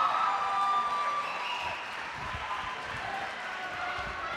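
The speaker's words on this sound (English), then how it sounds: "You may hear the clapping. They just had a pin at the heavyweight match over on the far mat." A crowd claps and cheers after a pin in a heavyweight bout on a far mat at a high school wrestling duals tournament, heard as a steady, somewhat distant wash of applause and crowd noise for a few seconds.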